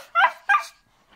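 A small pet dog in a video game gives two quick high yips in succession, close and clear, followed by a faint trailing whine.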